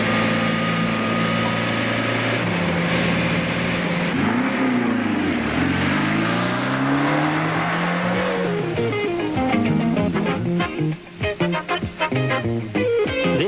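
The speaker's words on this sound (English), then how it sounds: "The cars leave the assembly line for the running in on rollers" Skoda cars running in on rollers at a 1982 factory, engines revving and whining with rising and falling pitch, a steady loud mechanical drone giving way to rougher, choppier running.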